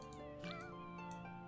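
Several cats meow outside in The Sims 4 game, locked out and wanting in; short game-style meows ring out over steady background music.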